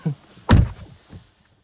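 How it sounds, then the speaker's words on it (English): A Tesla Model 3 car door opens with one solid thunk in the middle, a lighter click before it and soft rattles trailing after. "you may open the door."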